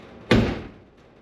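A classic car door swung shut, giving one solid, close thud that rings briefly and fades, with a faint click just after.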